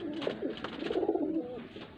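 Pigeons of a Faisalabad flying breed coo in a close, continuous, warbling stretch of repeated rolling calls, with no talk over them.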